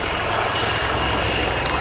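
A Wildcat helicopter flies low in front of the crowd at an air show, its engine and rotor roar steady, loud and continuous throughout with no talking.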